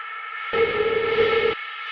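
Industrial techno synth texture drenched in fully wet long reverb and pushed with distortion, a steady sustained drone that swells louder midway with a low tonal layer, then drops back to a thinner wash, no voices.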